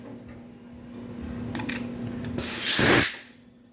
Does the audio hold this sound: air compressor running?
yes